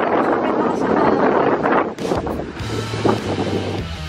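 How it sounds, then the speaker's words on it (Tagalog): Strong wind buffets the microphone on a beach at sunrise, a steady loud roar with gusts, while a low engine-like hum joins in the second half. "sobrang lakas ng hangin"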